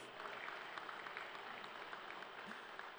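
An audience at a Mumbai tech week talk applauds in a steady, faint, distant patter of many hands clapping throughout.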